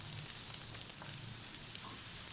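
Chopped carrots sautéing with garlic in a pan for white sauce pasta, giving a steady soft sizzle that runs evenly throughout, close and fairly quiet with no talking.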